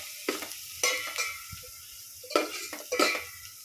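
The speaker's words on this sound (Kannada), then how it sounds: "ನೋಡ್ತಿರ್ಬೋದು ಫ್ರೈ ಮಾಡ್ಕೊಳ್ತಾ ಇದ್ದೀನಿ" Ingredients fry and sizzle in a pan for tomato rasam while a spoon stirs and scrapes against it in several short strokes, heard up close over a quiet low background.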